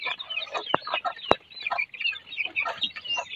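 Native chickens at feeding time cluck and chatter in a steady close flock, with a couple of sharp clicks or taps cutting through the busy calls.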